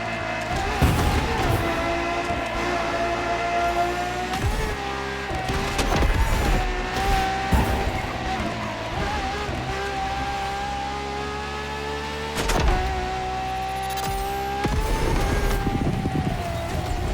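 A Ferrari V12 hybrid supercar in the racing game The Crew Motorfest wails at high revs, its engine note rising and falling through gear changes with brief tire squeals, loud and close throughout.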